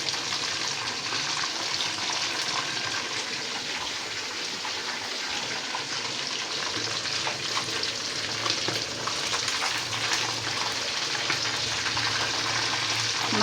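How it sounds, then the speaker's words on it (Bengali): Meat frying in a pan gives a steady, loud sizzle with crackling spatter, with faint stirring scrapes running through it and no pauses. "মাংসটা একটু ভালো করে ভাজলাম"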